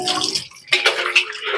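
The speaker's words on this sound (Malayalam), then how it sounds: "ഇനിയിപ്പോ ചപ്പാത്തി ഉണ്ടാക്കിയ പാത്രം ഉണ്ട് കഴുകാന്" Water runs and splashes while a chapati pan is washed in a home kitchen, a steady close rush with brief clatters and a short pause partway through.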